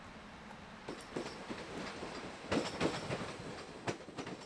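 Class 630 electric locomotive 630-050 moving off in a freight yard, a steady distant rumble of rolling wheels with intermittent clacks over rail joints.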